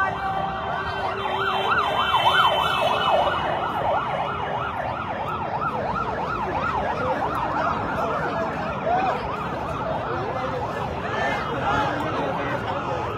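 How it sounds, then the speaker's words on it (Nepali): Wailing ambulance sirens rise and fall continuously as the vehicles arrive along a street in Lalitpur during a curfew, loud and fairly close over a steady rumble of road traffic. "यहाँ एम्बुलेन्सहरू आइरहेको छन्"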